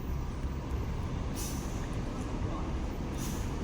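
A GM Royal bus lets out two sharp hisses of air brake release, a few seconds apart, over a constant rumble of idling engines and road traffic.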